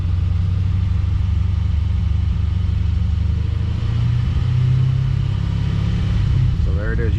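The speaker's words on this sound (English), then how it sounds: "So we'll put a little bit of RPM here." A 2017 Chevy SS with its LS3 V8 idles with a steady, loud low rumble throughout, holding a raised rpm through the middle and easing back briefly near the end.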